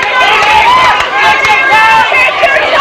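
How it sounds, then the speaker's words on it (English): A crowd of spectators shouts loudly at a 1993 under-13 county final football match, with overlapping voices and calls in a continuous, near, energetic roar. "The crowd here in front of us shouting to Shane Ward to take his time."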